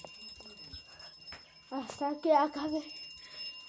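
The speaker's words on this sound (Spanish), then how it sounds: "Y una vez se les ocurre activar la alarma." A building fire alarm sounds as a steady, high-pitched electronic tone that runs continuously while a person speaks briefly over it.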